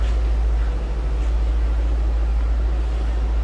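A 2002 Ford Thunderbird convertible with its stock exhaust idling, heard from behind the car as a steady, loud low rumble with constant noise and no change in rhythm.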